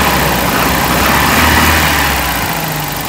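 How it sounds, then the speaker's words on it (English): A 1992 Toyota Hilux pickup engine with throttle cables revs up close by. A loud, rough, continuous drone swells toward the middle and then eases slightly, with no talking. "You can rev it up right here."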